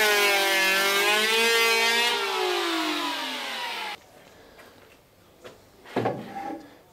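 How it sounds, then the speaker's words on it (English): A thicknesser planing a laminated wooden boat stem with epoxy on it, a loud high whine that slowly drops in pitch for about four seconds, then stops, leaving quieter workshop knocks and handling. "and then flatten it out on the thicknesser."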